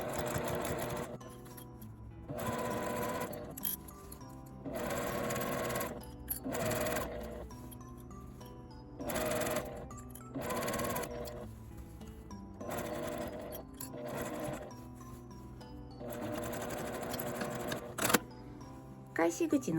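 A sewing machine stitches a drawstring grommet bag with a D-ring, running in repeated bursts of rapid, even stitching separated by short pauses, close and fairly loud.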